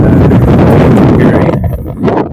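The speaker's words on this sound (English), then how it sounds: "this wind is terrible right now" Strong wind buffets the microphone on a carport building site in the Philippines, a loud, rumbling roar that eases slightly toward the end.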